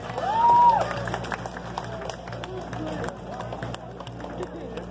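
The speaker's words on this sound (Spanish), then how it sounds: "fuerte el aplauso para la ganadora del tercer lugar con 111 puntos" An audience applauds the third-place winner of a Catrina costume contest, clapping spread beneath crowd murmur and an announcer's amplified voice, with a brief whistle-like tone near the start.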